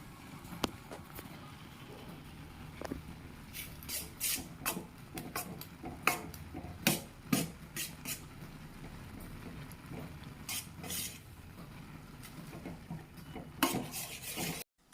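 Maggi noodles being stirred in a pan, with soft scraping and repeated light clinks and taps of the utensil against the metal, quiet and close, over faint background noise; no talking.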